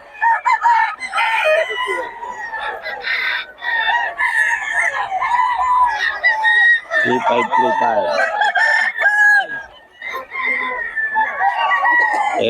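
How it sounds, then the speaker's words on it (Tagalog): Several roosters crow loudly and repeatedly, overlapping one another, with hens clucking steadily underneath in a busy, close farmyard. "Solid ang mga manok ng Boss Tony."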